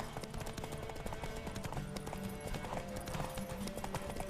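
A horse trots in the video game The Witcher 3, its hooves clip-clopping in a steady rhythm over game ambience and music, with a brief faint whinny.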